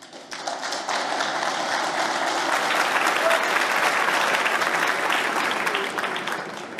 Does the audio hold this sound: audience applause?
yes